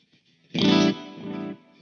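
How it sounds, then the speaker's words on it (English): An electric guitar played through a Mesa Dual Rectifier amp with a chorus effect rings out in two shimmering, swirling chords, the first louder and the second decaying softly, heard alone. "So this is now chorus"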